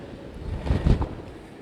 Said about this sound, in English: we had 85-mile-an-hour wind gusts, and now they're even higher